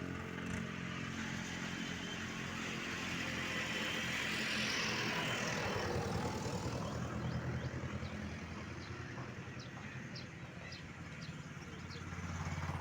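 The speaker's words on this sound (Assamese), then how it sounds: "এইজন আমাৰ দেৱ আহি আছে ট্ৰেক্টৰ লৈ।" A tractor engine approaches along a road, a steady broadband rumble that grows louder and fuller over the middle of the clip before easing slightly, with clattering and steady outdoor background noise.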